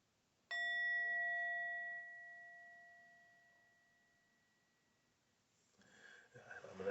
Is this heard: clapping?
no